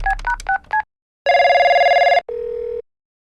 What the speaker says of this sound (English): that calm was broken by one urgent phone call.